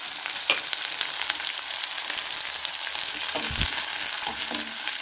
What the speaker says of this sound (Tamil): இப்போ நம்ம சில்லி இட்லி செய்கிறதுக்கு கொஞ்சமாக ஒரு 10 சோம்பு 10 சீரகம் போட்டிருக்கேன்.